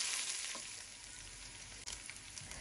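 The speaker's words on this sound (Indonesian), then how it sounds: "Nanti di sini tumis lagi sebentar, biarkan semuanya menyatu dulu." Ingredients stir-fry in a pan with a bay leaf, a steady close hiss and sizzle with occasional scraping stirs, no one speaking.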